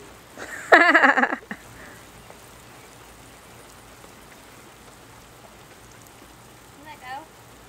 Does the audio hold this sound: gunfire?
no